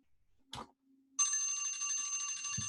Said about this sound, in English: Ooh, the bell.